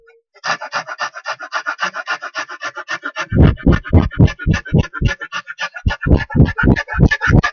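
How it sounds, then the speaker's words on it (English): Wood rasp filing a wooden toy car, rapid rhythmic rasping strokes close up, starting light and quick, then turning heavier and deeper with pronounced back-and-forth scraping. "Now we can use the wood rasp."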